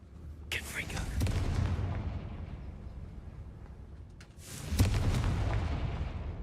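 A Confringo explosive spell goes off twice in a wizard video game, each cast a sharp burst that swells into a booming, rumbling blast. The two explosions are spaced several seconds apart and fade slowly between them.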